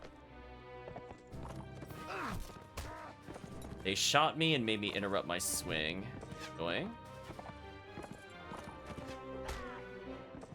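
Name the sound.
horse galloping in video game Mount and Blade Warband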